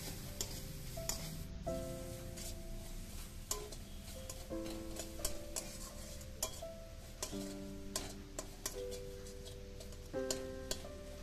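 Turmeric, chilli flakes and sugar fry in a pan with a faint, steady sizzle, punctuated by frequent light ticks and clinks of a utensil stirring against the pan.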